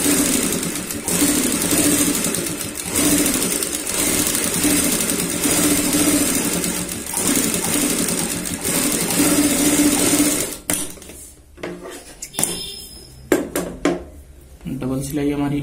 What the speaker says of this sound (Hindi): अब हमें यहाँ पे सेम एक एक पैर का ही मार्जिन रखते हुए यहाँ पे सिलाई लगानी है